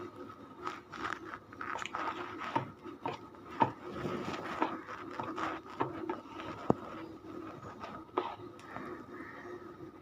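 Gram flour batter for khaman dhokla is whisked by hand in a bowl, a continuous stream of soft scraping and knocking strokes close by.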